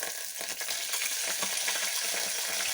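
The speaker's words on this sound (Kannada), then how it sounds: "ಈರುಳ್ಳಿ ಹಾಗೆ ಫ್ರೈ ಆಗ್ತಾಯಿದೆ" Onions and masala paste for masala puri fry in a pan, giving a bright, continuous sizzle with faint stirring scrapes underneath, close and steady throughout.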